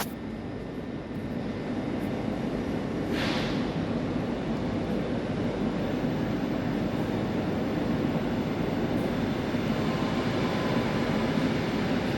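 A train at Kraków Główny station gives a steady low rumble and hiss under the station hall's ambience, with a brief brighter squeal or hiss burst near the start and faint tones above, with no voices.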